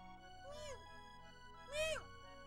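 Two meows from a cat in the Chrono Trigger video game, a short one followed by a louder, higher one about a second later, set over a steady game background.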